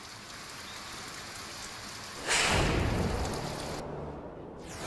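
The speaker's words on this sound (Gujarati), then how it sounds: "ધોધમાર વરસાદથી સમગ્ર આમોદ પંથક તરબોળ થઈ ગયું છે।" Heavy monsoon downpour in Amod, Gujarat, a dense steady hiss of rain on surfaces that swells louder about halfway through and stays strong, with no voices.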